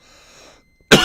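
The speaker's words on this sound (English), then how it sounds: "coughed" A single sharp, loud cough bursts out near the end, after a faint hum and a brief silence.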